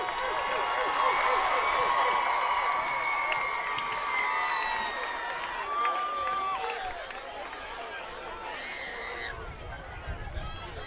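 A crowd at a Decatur Central High School varsity football game applauds and cheers for the 2023 band seniors, a broad steady roar of clapping and shouts with whistles rising above it, sustained across the stretch.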